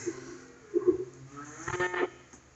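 A cow in a calf barn lets out low, nasal moos, a short call followed by a longer, louder one, close by and with no talk.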